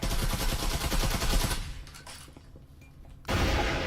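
Rapid bursts of gunfire in the VR shooter Breachers, a loud dense volley for about a second and a half, a brief quieter gap with faint clinks, then another heavy burst of shots.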